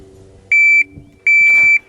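Two loud, steady electronic shot-timer beeps at a shooting drill, each about a third to half a second long, separated by a short pause, with a brief burst of noise after the second.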